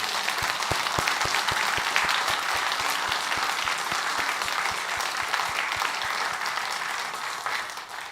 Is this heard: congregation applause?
yes